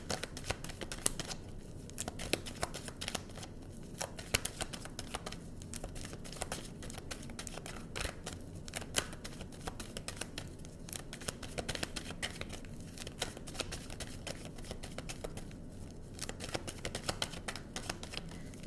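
Tarot cards shuffled continuously at close range during a December love reading for Pisces, a dense run of quick riffling and flicking patters with no pauses and no talk, steady and moderately quiet.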